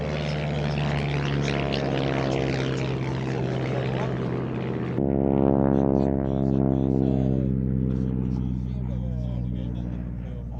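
North American T6 propeller aircraft performing aerobatics high overhead at an air show, a loud sustained droning engine with strong harmonic bands that shift in pitch partway through, with voices heard over it.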